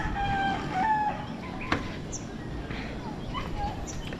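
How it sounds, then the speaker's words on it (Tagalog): A rooster crows in the background, a drawn-out call rising over steady low outdoor noise, with a sharp click partway through. "Ang manok ni San Pedro Ogis ang balahibo."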